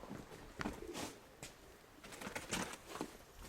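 Pigeons coo and flutter near a loft as they are let out, soft repeated calls with brief wing-like patters, no talk.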